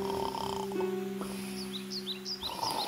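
A cartoon wolf snores while sleeping under a tree in an animated fairy tale, giving one long, steady, droning snore with a sustained tone, plus a few faint high chirps above it.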